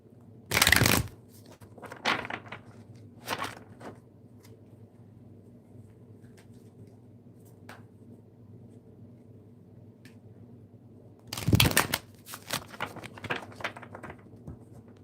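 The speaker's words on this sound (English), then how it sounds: "I'm going to shuffle these cards here for a minute" Tarot cards shuffled by hand in two short bursts, one near the start and one near the end, with a few lighter riffles between over a low steady room hum.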